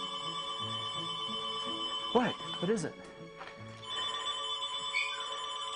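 An indoor telephone rings steadily with a sustained bell tone that continues through the clip, while a person briefly speaks over it.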